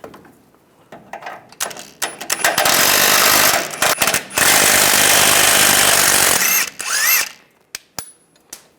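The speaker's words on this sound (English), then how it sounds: "And then we'll take this nut off using a 18mm socket." An impact tool spins an 18mm socket to remove a nut from a differential bracket on a 2007-2013 Chevrolet Silverado, making loud sustained buzzing bursts broken by short pauses and metallic clicks, close up.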